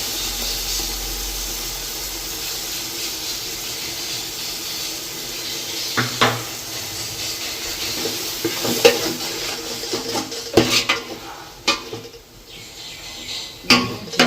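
Ginger, garlic and green chilli sautéing in oil in a pan, a steady hiss of frying with scraping and clinks of a spoon stirring against the pan toward the end.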